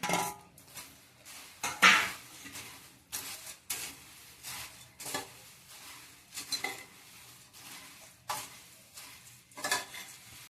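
Peanuts and dal mixed and sautéed in a pan for spicy Kolhapuri bhadang, with repeated rhythmic spatula scrapes roughly every second over a light sizzle and occasional metallic clinks.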